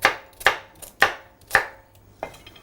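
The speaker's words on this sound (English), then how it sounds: "I'll cut the potatoes into little small cubes." A knife chops potatoes into small cubes on a cutting board, five sharp, close strikes at an uneven, unhurried pace.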